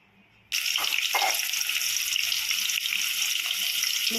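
Onions drop into hot oil in a pan and break into a loud, sudden sizzle that keeps crackling steadily at close range.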